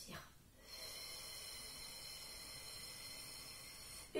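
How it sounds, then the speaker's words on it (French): Slow belly breathing during a relaxation exercise: one long, steady, airy breath heard up close, held for several seconds, ending in a brief sharper sound, with no speech. "On recommence, on inspire et on expire."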